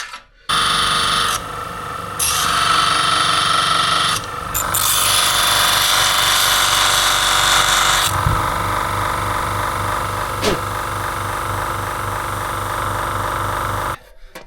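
Power tool working a bolt loose on farm equipment by a stripped silage pit, a loud sustained grinding whir with shifting pitch that runs nearly the whole stretch, broken by brief pauses and a sharp clank midway.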